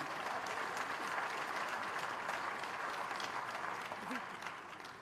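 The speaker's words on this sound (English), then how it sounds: "Applause for the management." Sustained, even applause from a large convocation audience for the university management, heard from a distance and continuing throughout with no breaks.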